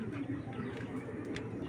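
A Fitki Giribaz tumbler pigeon, a tournament-flown bird, gives a soft continuous coo close by, faint and low amid background bustle, with a voice faintly in the mix.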